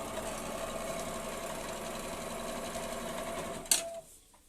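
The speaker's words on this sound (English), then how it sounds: "you're going to sew all your 2 pieces" Sewing machine stitching two patchwork quilting pieces together, a close steady whirring hum with even mechanical chatter that ends abruptly in a sharp clack before dropping to near quiet.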